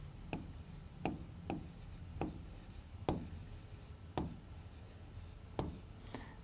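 Marker or chalk strokes on a classroom board during a microbiology lesson. About nine distinct scratchy taps and short strokes come in an uneven rhythm, close and clear against a quiet room with no talk.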